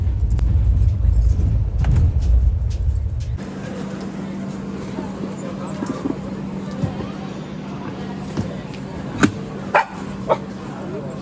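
A dog at a busy railway station barks in short, frightened yaps amid crowd noise and a steady mechanical hum, with people talking nearby.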